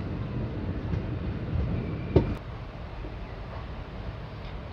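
An Ahmadpur–Katwa passenger train runs along a single-track electrified line in India, a steady low rumble throughout with one sharp metallic clank partway through, no talk.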